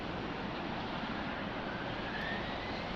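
A jet airliner roars on its takeoff run at Lisbon Airport, a steady broadband engine rumble holding evenly throughout at moderate distance, with no voices.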